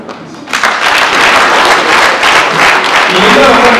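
An audience at a public meeting in Kigali claps, with a dense burst of applause rising after a brief lull and staying loud to the end.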